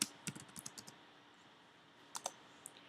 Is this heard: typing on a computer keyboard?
yes